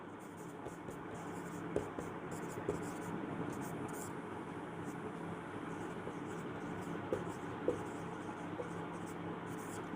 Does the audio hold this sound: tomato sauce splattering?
no